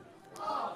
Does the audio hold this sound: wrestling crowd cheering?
yes